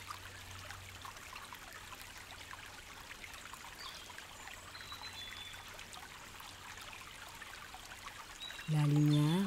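River water flows steadily in a broad, even wash, moderately close, with a brief louder low tonal sound breaking in at the very end.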